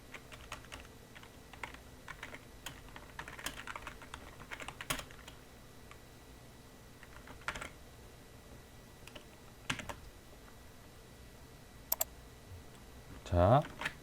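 Computer keyboard typing with scattered key clicks and short shortcut presses for copy and paste, faint and sparse over a quiet room, with a louder thump near the end.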